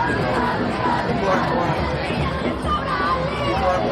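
A large, dense crowd at a protest rally in New York City, a steady roar of overlapping voices and chatter filling the space without pause, loud and close all around.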